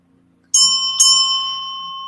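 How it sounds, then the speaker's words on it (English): Two bright bell strikes ring out during a spiritual energy reading, the second about half a second after the first. Each is a clear, close metallic ding, and their tones sustain and slowly fade in an otherwise quiet room. "I'm going to read something here and do my bells"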